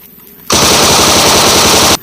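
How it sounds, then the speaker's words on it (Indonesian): Yellow toy gun blaster firing a loud, rapid machine-gun-like sound effect, a dense burst of roughly one and a half seconds standing alone. "yellow gun blaster"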